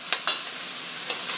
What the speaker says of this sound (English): Sizzling, nice. Now it's starting to get the temperature.